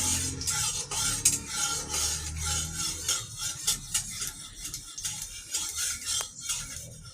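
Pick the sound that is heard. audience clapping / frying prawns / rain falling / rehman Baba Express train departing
frying prawns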